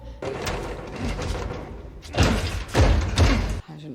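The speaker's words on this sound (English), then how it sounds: "Door." Doors slam and thud heavily several times, loud and booming, over a busy mix of music and effects.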